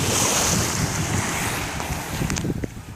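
Surf of the Gulf of Mexico washes steadily against a beach under strong wind noise, a continuous nearby wash with a few sharper splashes near the end and no talk.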